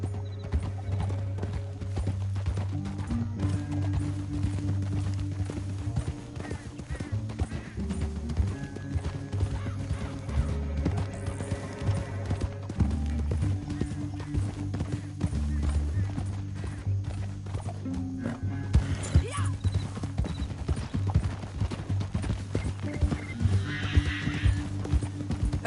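In the western video game Red Dead Redemption 2, horses gallop with a continuous rapid drumming of hooves and whinny now and then, close and loud, with low rumbling music underneath.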